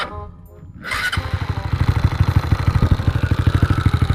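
A Honda Wave 125i motorcycle with a new spark plug fires up after a brief crank, then settles into a loud, steady, rapid idle thump close by, with no talking.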